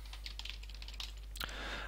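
Rapid, light keystrokes tap on a computer keyboard, close but quiet, in a short irregular burst ending with a louder click, over a steady low electrical hum.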